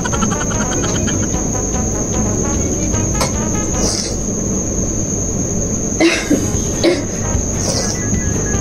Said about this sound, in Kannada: ಕೆಮ್ಮು ಬರ್ತಿದೆಯಾ?